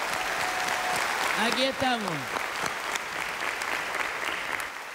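Studio audience applause greets a guest on a Spanish-language TV program, a steady broad wash of clapping lasting throughout, with a voice speaking and a whoop-like cheer rising briefly over it.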